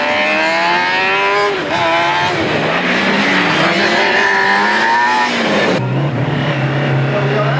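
A Formula SAE race car at a 2001 FSAE-A competition pushes hard out of the pits, its engine revving loudly and climbing through gears with tyre noise and a steady high whine, with faint commentary underneath.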